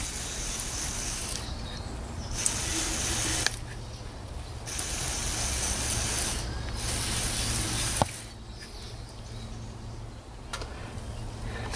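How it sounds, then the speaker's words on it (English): Brake cleaner sprays in several long, loud hissing bursts around a car's engine area during an Audi oil change, separated by short pauses and accompanied by faint clicks. "So this stuff is brake cleaner, and it will clean that area down there."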